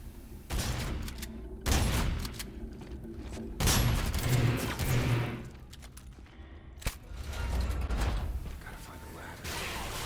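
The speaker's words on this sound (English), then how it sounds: "when you press the alt fire button, it shoots a similar round as the hand cannon that explodes shortly after impact" A video game gun fires alt-fire rounds like a hand cannon that explode shortly after impact, producing several loud bursts and booms spaced irregularly, with mechanical clatter between shots.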